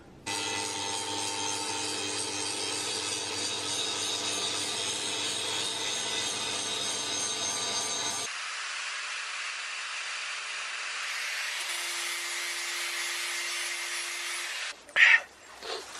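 Grinding and sanding metal for a sword build, a long continuous whine with a change in pitch and texture midway, then a few short scraping bursts at the close; no speech.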